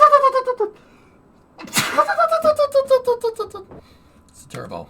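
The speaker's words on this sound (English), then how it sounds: "I gotta sneeze." One sudden, sharp sneeze bursts out between stretches of voiced, tonal vocal sounds from a person nearby, loud and close.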